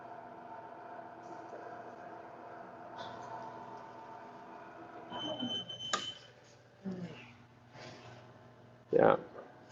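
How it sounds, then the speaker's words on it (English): Electronic alarm tones from a noodle dough mixing machine signal the end of the first mixing stage, sounding as intermittent beeps against machine hum in a production room, with people talking nearby. "the first part of mixing is done, and then like it lets you know that it's done by alarm"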